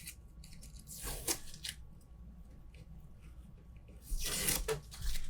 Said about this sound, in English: I'll go ahead and take the tape back off here